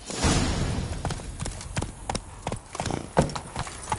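Roach the horse gallops in The Witcher 3, a steady rapid clip-clop of hooves close by for a few seconds, with no talking.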